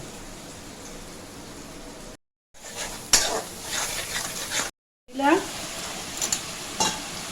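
Onion, chili and ground spices sizzle in a pan while a spoon scrapes and stirs with clinks and knocks, broken by two short dropouts; someone talks over the steady frying.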